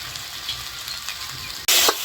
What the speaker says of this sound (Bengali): মশলাটা কষানো হয়ে গেছে, এবার দিয়ে দেবো ভেজে রাখা আলু।